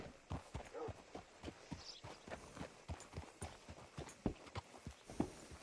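Steady clip-clop of hooves at a walking pace in Red Dead Redemption 2, close and fairly crisp, with a faint voice murmuring briefly in the background.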